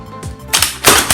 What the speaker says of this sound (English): And now for 2 shots of slam fire,